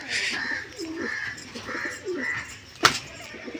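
Soft, rounded coos of Giribaz pigeons repeat in a loose rhythm close by, with a brief sharp knock near the end.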